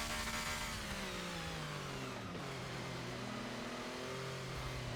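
A Porsche 962C race car in Forza Motorsport 6 at VIR revs hard, with pitch sweeping down through downshifts and climbing again, a loud, continuous engine whine with no speech.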